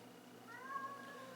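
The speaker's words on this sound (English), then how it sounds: "If anybody's wondering about the meowing, there we go" A large 22-pound cat gives one faint, drawn-out meow in a quiet room, low and distant under a steady background hiss.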